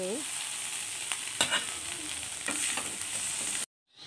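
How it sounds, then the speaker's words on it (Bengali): Aubergine fries in hot oil in a pan with a steady sizzle, broken by a few scraping stirs and clinks, before cutting off abruptly near the end. "এর মধ্যে বাগুনটা ভাজি বানাবো"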